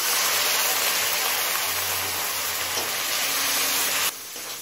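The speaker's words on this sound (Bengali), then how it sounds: "অল্প পরিমাণে দিলাম একটু জল।" Loud, steady hiss of masala with Kashmiri chilli powder, turmeric and salt sizzling in a pan after a splash of water, continuous and close, easing off near the end.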